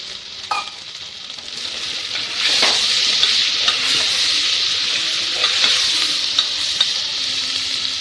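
Tomatoes frying in a little oil with turmeric, a steady, loud sizzle that swells and holds, with occasional small pops and stirring scrapes, no talking.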